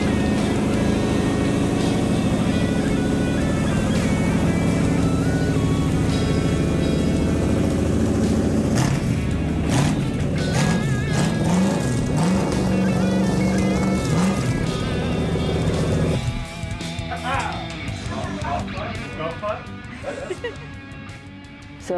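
A Mopar 5.9 Magnum V8 runs on a stand on a garage floor at its first start, a loud steady idle with revs rising and falling, then the engine note drops and settles quieter near the end.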